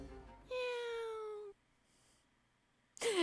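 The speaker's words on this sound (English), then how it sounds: "His meows are so fake." A cat in the video game Dandelion: Wishes Brought to You gives one drawn-out, clear meow at close range, followed by near silence and a brief noisy burst at the end.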